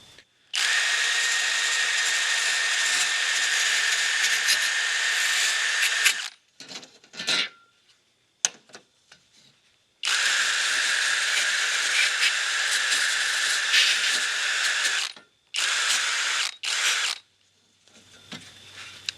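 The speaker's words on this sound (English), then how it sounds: "I just use a drill with a wire wheel in it." A drill spins a wire wheel against metal, deburring parts during high tunnel construction, in long, loud, scratchy bursts with a high hissing whine, broken by brief pauses and short restarts.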